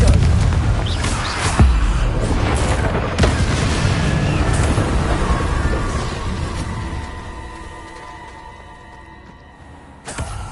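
A Confringo explosive spell from Hogwarts Legacy erupts in a loud, sustained rumbling blast with sharp bursts layered through it, slowly fading, then a fresh crack near the end.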